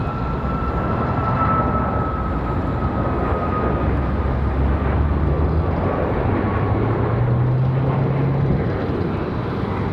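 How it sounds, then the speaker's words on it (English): A Boeing 737 airliner departing Raleigh-Durham airport, a loud, steady jet roar with a rumbling low end and a faint engine whine, heard from a distance, no voices. "Nice departure for the 737."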